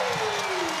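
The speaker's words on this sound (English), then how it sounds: "Listen to the crowd. The Green Army has come to life." A basketball crowd bursts into applause and cheering as the Manawatū Jets clinch their first win, a dense, loud wash of clapping and voices filling the arena.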